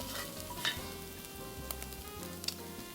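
Cabbage, sauerkraut, bacon and onions fry and are stirred in a pot for Polish hunter's stew, a steady close sizzle with scraping stirs and a couple of brief clinks, no talking.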